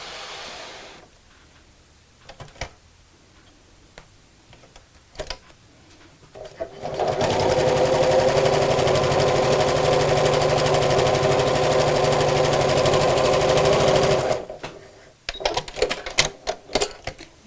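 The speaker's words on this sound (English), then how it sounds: "I'm going to sew straight across the ends just to hold those down" Sewing machine stitching across elastic: a few short taps and clicks as the work is positioned, then a steady whirring run of about seven seconds, followed by more scattered clicks and handling noises.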